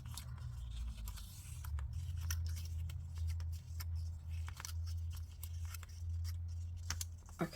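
Scissors cutting through a sheet of paper for a handmade gift box, with repeated close snips and crisp slicing over a low steady background hum.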